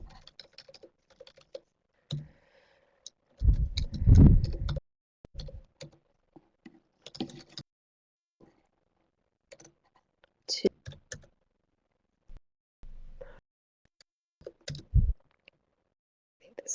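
Bursts of clicky keystrokes on a computer keyboard as a password is typed to log in, irregular clusters of taps with pauses between them, close and fairly clear.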